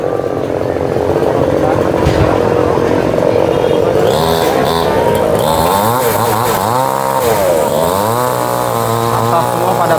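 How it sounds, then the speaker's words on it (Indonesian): A chainsaw cuts a tree trunk during flood work at a broken river embankment, its engine revving up and down in rising and falling whines, loud and steady, over a busy outdoor crowd with voices. "yang ini sedang potong batang pohon pakai gergaji mesin"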